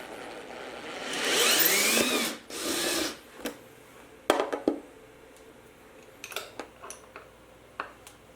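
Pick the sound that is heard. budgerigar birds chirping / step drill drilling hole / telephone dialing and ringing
step drill drilling hole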